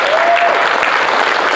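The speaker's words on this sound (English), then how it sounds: "let's give everybody here at the Royal Hotel a round of applause" Audience at an event at the Royal Hotel applauds loudly and steadily, a dense wash of clapping filling the room throughout.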